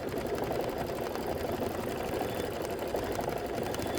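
A quilting machine stitching a Kimberbell quilt, giving a steady rapid mechanical whir with a fine buzzing pulse that runs evenly and close throughout, with no voices.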